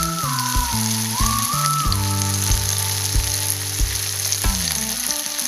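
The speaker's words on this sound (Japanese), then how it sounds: "次に両面を焼いていきます。" Tofu fries in a pan for a stuffed fried tofu dish, making a steady, close, crackling sizzle with no voices.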